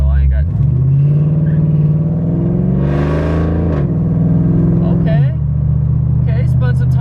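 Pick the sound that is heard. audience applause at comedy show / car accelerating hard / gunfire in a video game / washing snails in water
car accelerating hard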